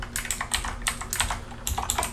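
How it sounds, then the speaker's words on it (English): Rapid typing on a computer keyboard while entering IP addresses for a switch, a steady run of close, crisp key clicks with short pauses, heard alone without talk. "So I'm going to go ahead and type in"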